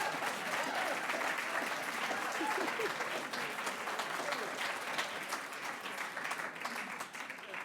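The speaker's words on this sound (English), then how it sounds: "The Sistina also hasn't gotten that much applause in a long time." An audience at a poetry reading applauds warmly in a sustained, dense burst of clapping that tapers slightly toward the end.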